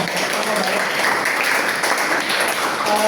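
A classroom group applauds during a poetry lesson, a loud, dense burst of clapping that stays level for the whole stretch, with faint voices underneath.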